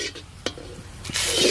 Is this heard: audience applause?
no